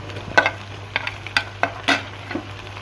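Tomatoes and green chillies stirred in ginger-garlic paste in a pan, a soft background sizzle broken by a series of distinct scraping spoon strokes at an irregular rhythm, no voices.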